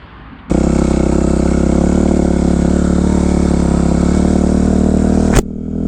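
A 2005 Kawasaki KX 250F dirt bike engine starts abruptly and holds a loud, steady, close-up rasping drone at constant revs, then cuts out with a brief pop near the end.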